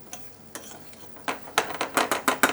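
Rice grains are stirred through melted butter in a pan for pilaff, giving a run of close scraping, rustling strokes that grow louder and quicker toward the end, with a faint sizzle underneath.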